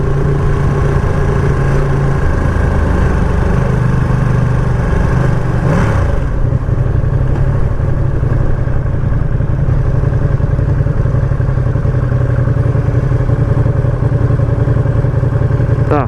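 A 2020 Ducati Panigale V2 engine drones steadily while riding, a loud continuous mid-pitched hum with rising and falling revs, including a quick blip around the gear change, and no talking over it.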